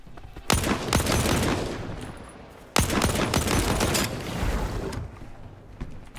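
Gunfire in STALKER 2: loud, close volleys of rapid shots in two main bursts separated by a short lull, with a few scattered lighter shots trailing off at the end.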